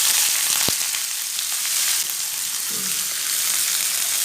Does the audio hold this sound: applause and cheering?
no